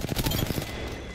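A rapid burst of video game gunfire in a squad shooter match: a quick string of close, punchy shots that fades into a decaying echo.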